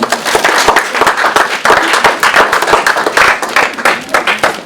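Dense applause from a crowd at a nursing home New Year ceremony in Malestroit, steady rapid clapping throughout with no pauses, fairly loud and close.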